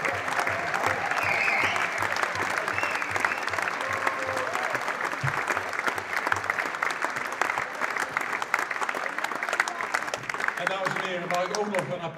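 Audience applause for a backstage band at a stage show, long, steady crowd clapping throughout, with a voice talking faintly over it near the end.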